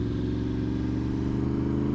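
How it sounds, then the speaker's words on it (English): A Yamaha R1M sport motorcycle idles close by with its exhaust, giving a loud, steady, throbbing engine note that stays even throughout, with no voices. "And the sound and the pops. This thing is just amazing, guys, with the exhaust."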